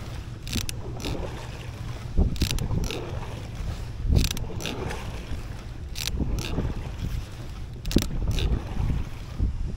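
Fast stand-up paddleboard being paddled with double-bladed paddles, rhythmic splashing strokes about every second or two over steady water rush and wind noise, close to the microphone.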